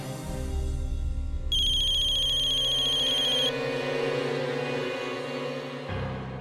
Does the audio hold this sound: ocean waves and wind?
no